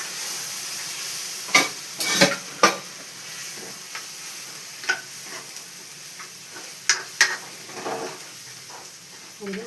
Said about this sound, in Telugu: మనం ఇందాక బాయిల్ చేసుకున్న మటన్ వేసేసేయాలి ఇప్పుడు ఇందులో